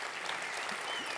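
Conference attendees at a keynote applaud a man standing up, a brief, even patch of continuous clapping heard from a distance and fairly faint.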